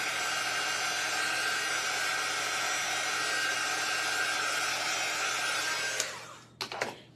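A hair dryer blows steadily on a handmade craft frame for about six seconds, a loud continuous whoosh with a constant motor hum, then it switches off and a few faint handling clicks follow.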